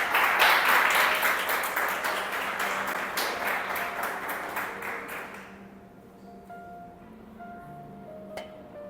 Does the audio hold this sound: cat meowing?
no